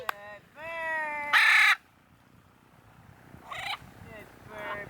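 Free-flying pet parrot in a desert setting gives a few loud harsh squawking calls, one strong burst early and fainter calls later, with a voice talking at the start.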